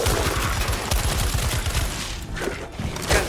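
Rapid Uzi fire in a knock-off Resident Evil 2 Remake game, a dense rattling stream of shots that is loud and continuous, with no talk over it.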